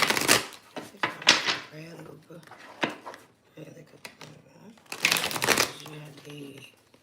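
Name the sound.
drawing tarot message cards from a deck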